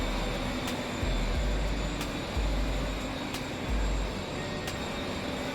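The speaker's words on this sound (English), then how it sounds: "Intercity train, probably my favourite train on the, or mod train at least on the game." An intercity mod train running in the video game Transport Fever 2, a steady low rumble with rhythmic rail clicks passing at regular intervals, moderately quiet and without speech.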